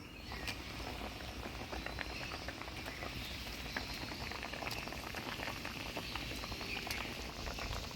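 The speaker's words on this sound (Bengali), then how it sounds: "ঝোল জাল হয়ে গেছে" Gravy for Bengali village-style mocha kofta (banana flower dumplings) bubbling steadily in a pot, a continuous dense patter of popping bubbles at close range with no talking.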